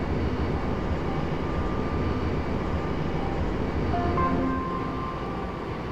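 A metro train in the OpenBVE simulator pulls away from Namyangju City Hall station on CoolMetro Line 15, a steady low rumble of motor and wheels with a faint rising whine, heard alone.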